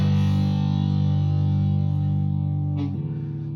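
A Fender Player Jaguar's humbucker pickup through effects plays a sustained distorted chord, ringing thick and loud, then shifting abruptly to a new chord near the end.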